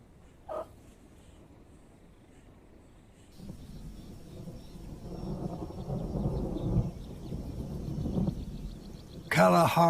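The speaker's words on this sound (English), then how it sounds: "Kalahari storms are colossal." Thunder from a colossal Kalahari thunderstorm, a low rolling rumble that swells and builds over several seconds after a quiet start.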